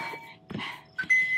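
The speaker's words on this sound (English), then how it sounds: "When you hear the bell, that's when we set ourselves up" A workout interval timer bell rings during a HIIT session, giving a short ding with ringing tones at the end, close and clear amid a few faint background sounds.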